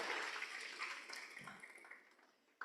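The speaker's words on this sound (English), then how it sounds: "Can you just give yourself some applause?" Crowd at a library author event claps briefly, a moderate burst of applause that fades out quickly over a couple of seconds.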